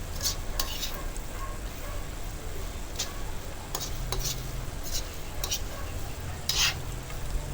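Corned beef sautés in a pan with potatoes while being stirred: light sizzling underneath, with intermittent scraping and clinking of a utensil against the pan at irregular intervals.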